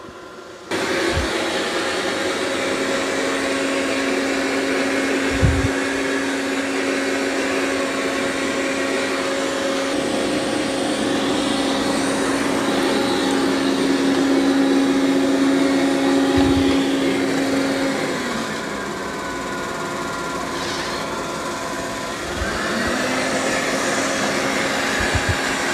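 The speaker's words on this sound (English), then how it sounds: "It's doing a really good job of vacuuming." A Roborock S8 MaxV Ultra or Dreame X40 robot vacuum and mop running on carpet, its steady, fairly loud motor whine continuing throughout with a dip in level partway and a few low bumps.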